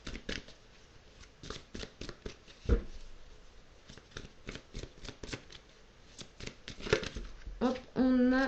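Tarot cards being shuffled and drawn by hand, a long run of close, crisp riffling flutters and soft slaps in quick succession, ending with a card being pulled and laid down.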